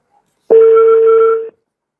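A telephone rings on an unanswered call, a single loud, steady electronic tone lasting about a second, alone against silence.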